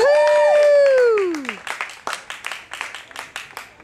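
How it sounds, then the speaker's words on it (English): Spectators clap at the Lexington National horse show, a scattered round of applause building after a loud cheer fades, the claps distinct and moderately close, with no talk over them. "And the crowd goes wild."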